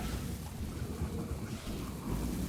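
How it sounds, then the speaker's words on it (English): Steady rain with low rumbling like distant thunder in the game Factorio, a continuous broadband wash with a heavy low-end roll, fairly loud and unbroken throughout with no voices. "Oh wait, it's raining."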